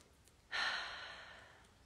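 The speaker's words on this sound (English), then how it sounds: "So I want you to take a deep breath in" One deep breath drawn in through the nose and mouth during a relaxation tapping session, a soft, close airy inhale that starts suddenly and fades gradually over about a second, alone in a quiet room.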